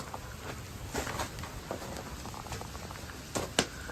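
Steady bubbling and popping of maple sap at a rolling boil in pots outdoors in the woods, close by, with scattered soft crackles and a few sharper splashes.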